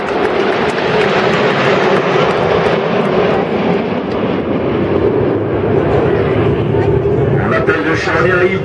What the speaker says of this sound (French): ils reviennent sur votre gauche pour le passage public en formation Concorde.